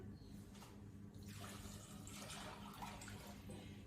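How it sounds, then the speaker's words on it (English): A litre of water pours into a container while a dairy-free cheese sauce is being made in a kitchen, giving a steady, fairly faint rushing splash that runs throughout. "we have a litre of water that we're going to pop in here"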